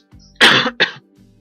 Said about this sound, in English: sorry if that cough is messing up my mic or anything